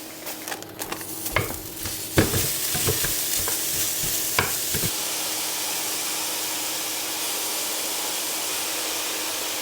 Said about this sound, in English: You're steaming your veg, you're cooking your rice.